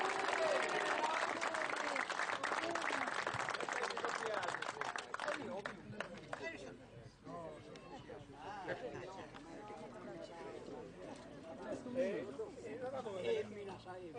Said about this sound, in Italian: mi sembra doveroso un applauso a zia Antonetto perché oggi compie 75 anni.